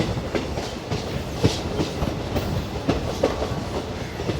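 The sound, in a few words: DEMU passenger train departing station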